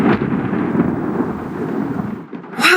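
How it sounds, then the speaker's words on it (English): Thunder after a huge lightning bolt in the Nancy Drew game Legend of the Crystal Skull, a loud, deep rolling rumble that sustains for about two seconds, then dies away before a fresh burst, with no voices. "Whoa, that bolt of lightning was huge."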